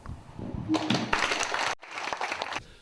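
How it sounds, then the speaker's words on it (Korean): Audience applause at a Korean traditional dance and exercise performance on an early winter evening, a burst of dense clapping that breaks briefly and resumes, moderately loud in a hall. "여러분 매회 큰 박수 부탁드리고"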